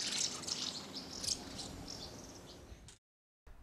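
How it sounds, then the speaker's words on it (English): A house martin gives dry, rattling chirps at moderate distance, several short bursts over soft outdoor background before a brief gap of silence. "they very frequently give an utterly distinctive dry prrr little raspberry or rattle"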